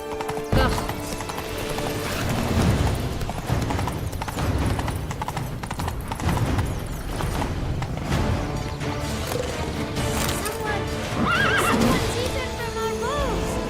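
Horses in The Witcher 3 clip-clop at a steady trot for several seconds. A whinny rises near the end, and voices talk over the hoofbeats and the game sounds.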